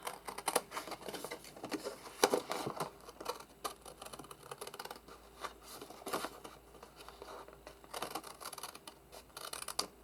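Scissors cut through a paper bag up close, a busy run of crisp snips, crinkles and paper rustling that continues steadily.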